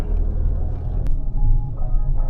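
A car approaches at an open-house site in Lipa City, its low engine rumble loud and close and rising slightly as it arrives, with faint voices underneath.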